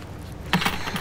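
A small bunch of keys jingles briefly as it is handed across in a quiet room, two or three light metallic clinks over a faint background hum.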